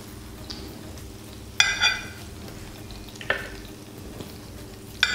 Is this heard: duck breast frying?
yes